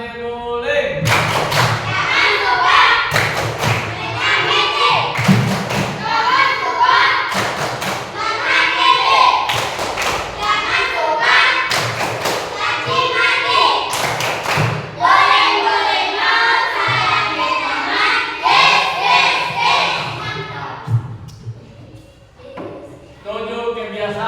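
A group of Indonesian schoolchildren does a rhythmic clapping chant, repeated bursts of sharp claps in a steady pattern alternating with loud chanted voices, close and sustained, tapering near the end.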